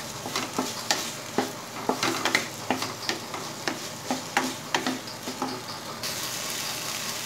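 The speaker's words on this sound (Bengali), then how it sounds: "সমস্ত কিছু আমি 2 মিনিটের মতো ফ্রাই করে নিয়েছি" Spices and green chilies fry for potato curry, a spatula scraping the pan in quick regular strokes over a constant sizzle, heard close and without any talk.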